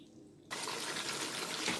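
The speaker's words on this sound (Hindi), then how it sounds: "अब मैं इसमें पानी ऐड करने लगी हूँ।" Water is poured into a pot of fried mutton for a Bakra Eid mutton dish, beginning suddenly after a quiet half-second and continuing as a steady, loud, close gushing pour with no talk.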